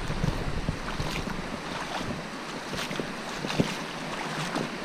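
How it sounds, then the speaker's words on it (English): Waves washing at the water's edge on a beach at low tide, a steady broadband wash with wind buffeting the microphone and small surges rising and falling throughout. "Right, so we're down by the water's edge."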